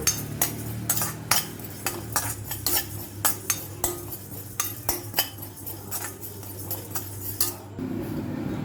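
Fenugreek seeds dry-roasting in a pan for gooseberry pickle, with cumin seeds added and a spoon stirring: a steady run of sharp metallic scrapes and clinks against the pan, close and fairly loud, over a low hum.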